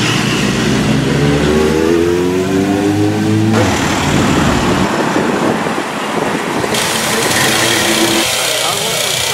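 A Volkswagen-engined trike at a bike festival revs hard and loud close by, the engine note rising and falling in sustained bursts with crowd and road noise around it.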